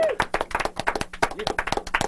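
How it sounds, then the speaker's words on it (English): Studio audience applause during a live music show, a dense run of claps close and steady throughout, with a voice briefly heard over the clapping. "Another round of applause."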